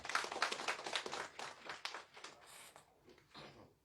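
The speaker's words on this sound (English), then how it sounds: "Round of applause" A meeting audience applauds for a newly appointed deputy minister, a short round of scattered hand claps that is loud at first and then thins out, fading within a few seconds.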